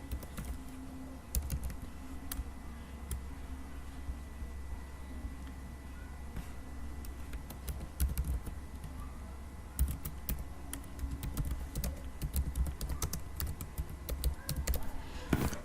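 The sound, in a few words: typing on a computer keyboard to enter an ID and description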